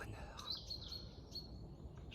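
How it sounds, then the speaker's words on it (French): Several birds chirp and tweet in short, bright calls over a steady low background rumble in the Bois de Changé woods near Le Mans. "dans les villes, vous n'entendez pas toujours les oiseaux"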